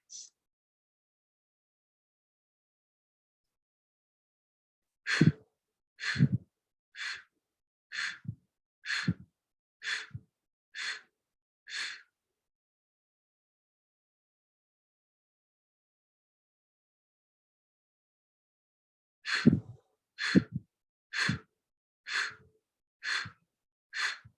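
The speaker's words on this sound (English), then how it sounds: "Last cycle of breathing." Breathing exercise: a quiet room carries two sets of short, sharp breaths, about seven evenly spaced puffs each, separated by a long silent pause.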